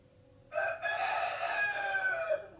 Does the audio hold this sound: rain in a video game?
no